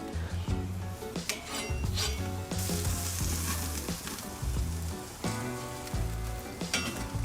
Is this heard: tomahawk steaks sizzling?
yes